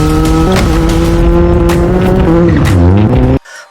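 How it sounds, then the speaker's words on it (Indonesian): A Caterham classic lightweight sports car drives close by with a loud, steady engine drone. The pitch shifts partway through and the tyres squeal briefly, and then the sound cuts off abruptly. "Mobil itu adalah Caterham."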